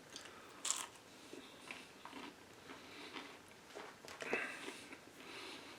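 Close, crisp crunching as someone chews homemade keto cheddar and dill pickle chips, irregular bites and crackles under quiet room noise.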